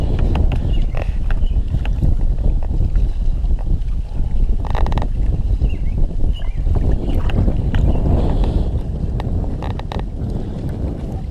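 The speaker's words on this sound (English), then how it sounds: "Really, really windy too." Strong gusting wind buffets the microphone in a dense, low roar while bass fishing from a boat on open water, with faint splashes and knocks mixed in and no talking.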